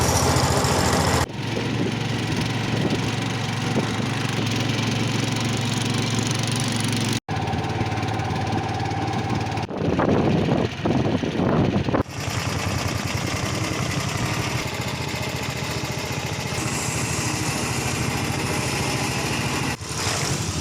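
Small boat engine running loudly on the river among the 4000 Islands of Laos, a steady buzzing drone that cuts out briefly and shifts tone a few times over twenty seconds.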